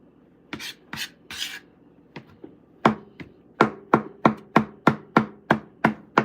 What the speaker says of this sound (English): There goes your ASMR with the chopping.